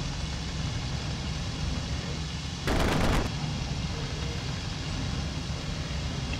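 A short burst of aircraft cannon and machine-gun fire from a fighter in the IL-2 Cliffs of Dover flight game, about half a second of rapid rattling over a steady engine drone.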